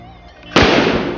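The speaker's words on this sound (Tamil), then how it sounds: "இந்த வெடி எப்படி இருக்குன்னு வெடிச்சு பாக்கலாம்" A single Diwali firecracker from Sivakasi bursts with one sharp, loud bang, followed by a brief crackling decay after a quiet lead-in.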